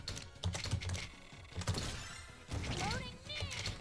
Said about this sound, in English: because I've got a mechanical keyboard. You'll hear some clunking.